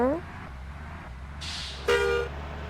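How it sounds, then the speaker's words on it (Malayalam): A bus horn in Bus Simulator Indonesia blares once in a short, flat honk near the end, after a moment of quiet engine hum and a bit of voice. "നമ്മൾ ഹോൺ അടിച്ച് അവനെ വെറുപ്പിക്കാൻ പോകുന്നു"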